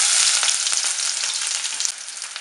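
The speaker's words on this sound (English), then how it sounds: "first fry the sliced onion" Sliced onion sizzles loudly in a pan, a dense close frying hiss with small crackles that eases slightly toward the end.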